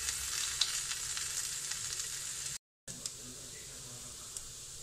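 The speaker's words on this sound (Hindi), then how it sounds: "अरबी मेरा अच्छे से फ्राई हो गया है" Pieces of arbi (taro root) frying in a pan, giving a steady close hiss of sizzling oil with faint crackles and one brief total dropout partway through.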